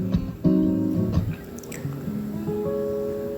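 Sliced cucumber drops into a pan of prawn curry that already holds salt, turmeric and chilli powder, giving a soft wet splat and squish followed by a low sizzle and light stirring, close up and without speech.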